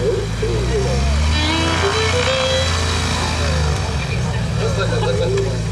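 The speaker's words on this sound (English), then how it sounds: "Let that plane go." A propeller airplane engine drones steadily and fairly close at a fly-in festival, with people talking over it.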